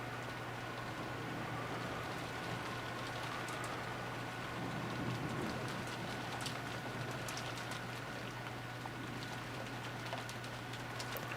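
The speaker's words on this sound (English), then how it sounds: "disappeared beneath the sound of the rain" Steady rain from a video game hisses faintly and evenly throughout, a soft continuous wash with scattered light patters and a low hum underneath.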